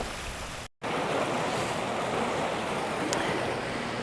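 Water pours steadily over a weir on the Kennet and Avon canal near a footbridge, a continuous broadband rush heard close and loud, with a brief dropout near the start.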